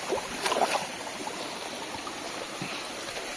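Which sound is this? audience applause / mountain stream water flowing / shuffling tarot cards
mountain stream water flowing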